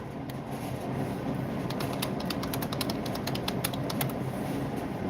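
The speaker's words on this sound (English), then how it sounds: "typing ASMR?" Quick clicking of metal rings during Byzantine-style chainmaille work, heard as a run of sharp, close, typing-like ticks that rise above a steady background hiss.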